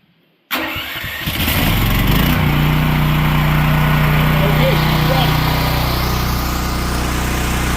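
A Champion dual fuel generator cranks after a moment of quiet, catches, and settles into a loud, steady, close-up engine drone that runs evenly to the end.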